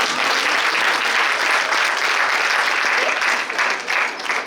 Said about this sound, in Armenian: 425 խմբին հատուկ ծափահարեք իրենց համբերատարության համար